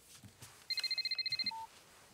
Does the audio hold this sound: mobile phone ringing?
yes